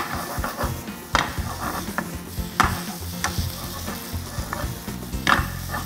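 Shrimp roe stir-fried with spaghetti in a pan gives a close, continuous sizzle with repeated clatters and scrapes of a utensil against the pan, and no talk.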